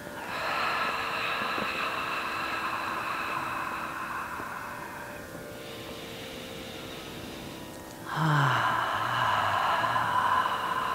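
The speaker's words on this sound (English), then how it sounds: "And breathing 5 times." Slow, deep breathing during a guided voice meditation: long, steady, breathy airflow that fills the whole stretch, with a louder, fuller breath near the end and no talking.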